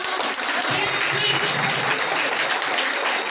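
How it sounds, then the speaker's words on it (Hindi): A crowd at a school team tournament prize announcement claps steadily, a thick continuous burst of applause filling the hall without a break. "एक बार जोरदार तालियां"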